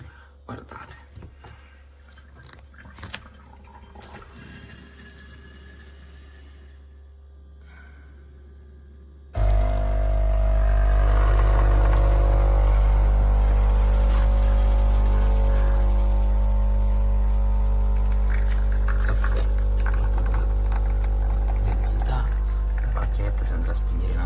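A KOTLIE AC-513HF multi-capsule coffee machine brewing espresso gives a faint hum and soft handling sounds under someone speaking Italian, then switches to a loud, steady pump drone that runs unbroken to the end.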